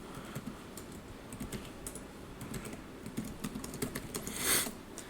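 Quiet, steady typing on a computer keyboard, a run of light clicking keystrokes with brief pauses, nearby and soft.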